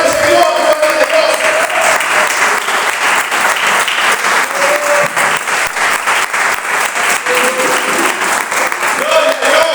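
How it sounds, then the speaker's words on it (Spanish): A church congregation claps loudly and continuously in praise, a dense, sustained round of applause with a few faint voices mixed in. "De un aplauso al Señor, gloria a Dios."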